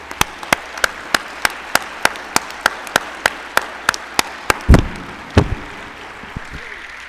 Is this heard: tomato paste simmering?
no